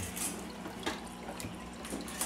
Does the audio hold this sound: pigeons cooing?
no